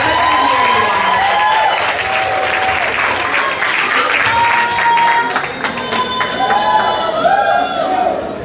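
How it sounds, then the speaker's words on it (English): At a pageant, a large audience gives loud, sustained applause mixed with cheers and whoops. Crowd chatter and a few shouting voices run through the roar. "Give them one more round of applause"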